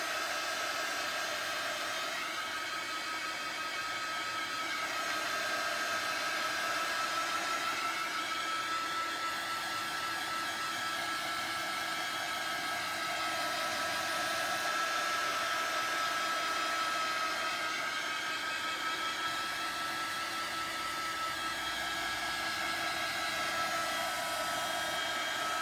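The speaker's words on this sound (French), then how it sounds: "Je vais faire un petit peu de heat gun 2 minutes" A heat gun blows hot air for scrapbooking work, a steady, loud, continuous whooshing roar with a faint whine that holds unbroken from start to finish, close up and alone without any voices.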